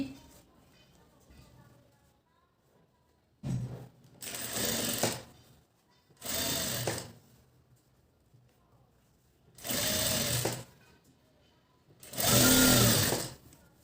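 Sewing machine stitching the cross strip of a size 32 blouse, running in four separate loud bursts of a few seconds each, with quiet gaps between them and faint background noise.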